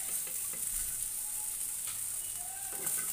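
Meat frying in a pan, a steady close sizzle with occasional stirring scrapes throughout, no talk.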